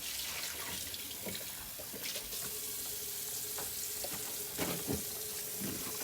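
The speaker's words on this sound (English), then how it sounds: "when you wash cups, it's important to make sure you clean around the mouth where everybody would drink at" Cups being washed with soap under running water, a steady splashing stream from the tap with intermittent clinks and rubbing sounds close by.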